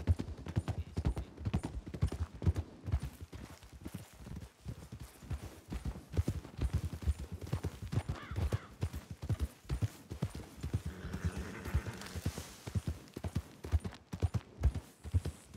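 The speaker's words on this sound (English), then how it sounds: "There's a horse over here." Horse hooves clip-clop in a Red Dead Redemption 2 roleplay game, a brisk, close, rhythmic run of steps that continues throughout, with a faint neigh near the end.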